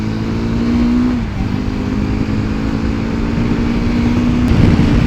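A car driving steadily and accelerating, the engine note holding a low hum near the microphone with a slight dip and rise, loud and continuous with no talk.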